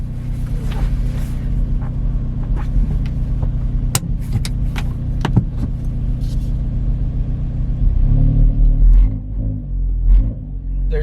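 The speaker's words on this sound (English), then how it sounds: "There's a lot more vibration to the start, and it kind of has like a deeper tone to it." A Hyundai Veloster N engine fitted with a Boomba rear motor mount idles steadily with a loud, deep, close rumble, and the tone shifts slightly and thickens near the end.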